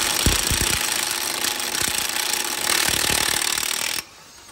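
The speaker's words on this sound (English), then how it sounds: "I'm going to remove that nut." Removing a 34 mm nut on a Nissan Qashqai CV joint with a power tool, a loud continuous rattling hammer-like whirr with a few sharp knocks at the start, stopping abruptly near the end.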